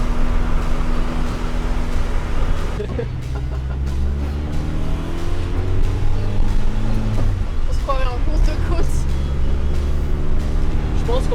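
A car driving, heard from inside its boot, with a steady low engine drone and road rumble throughout, rising in pitch through gear changes. People talk over it.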